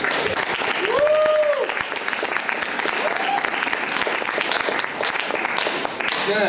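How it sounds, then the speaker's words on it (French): A comedy club tribute night crowd gives a hearty round of applause, a steady wash of clapping throughout, with a couple of brief whistle-like rising tones near the start and some voices mixed in. "ça mérite une bonne main d'applaudissements"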